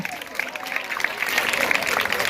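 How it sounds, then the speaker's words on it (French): Audience in a school hall at an academic day event applauding, with steady, dense clapping that swells slightly and continues throughout at close range. "On applaudit encore pour eux."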